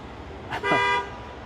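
A single short car horn toot honks on a street, loud and close, rising over steady traffic hum with cars stopping nearby.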